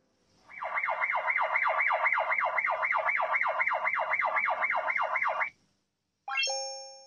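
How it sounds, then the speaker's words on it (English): A loud electronic siren from a 360EyeS IP security camera wails in rapid, regular up-and-down sweeps for about five seconds, then stops; a short falling electronic tone follows. "A siren sounded on the camera"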